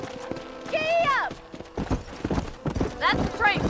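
Rhythmic hoofbeats clip-clop close by, with a horse whinnying twice over the top; no voices, just the animal and its steady footfalls, in the video game Red Dead Redemption.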